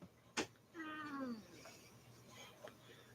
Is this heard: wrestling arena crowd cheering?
no